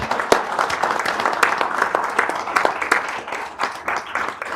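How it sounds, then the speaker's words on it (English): People at a Show Low school board meeting applaud a high school student's achievement. Individual claps are sharp and distinct, forming a moderate, uneven round of clapping that rises and falls. "Round of applause for that."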